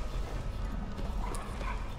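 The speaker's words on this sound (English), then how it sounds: "These dogs are pretty vicious towards you, so I wouldn't get near them." Vicious guard dogs barking in the Dishonored video game, a steady run of rough barks and yips amid constant low game ambience.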